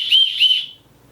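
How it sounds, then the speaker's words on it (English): A small emergency whistle built into a backpack's chest strap gives two quick, shrill, close blasts lasting just over half a second, then drops to near silence. "Oh, the chest strap has a little whistle in it."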